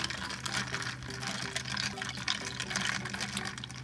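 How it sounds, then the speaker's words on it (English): Syrup being poured into cold brew coffee, with a steady liquid gush and splashing running continuously, fairly close and alone without talk. "So then you're just gonna pour in the syrup into the cold brew."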